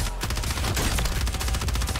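Rapid HRM9 submachine gun fire in the shooter Warzone, a dense, loud stream of close shots running without pause across the clip, with no voices.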